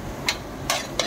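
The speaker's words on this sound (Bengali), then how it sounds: "আলুটাকে হালকা কষে নিব, কাঁঠালটাকেও হালকা করে কষে নিব।" Jackfruit and potato curry is stirred in a pan: three quick scraping strokes over a soft sizzle, close and moderately quiet, no voices.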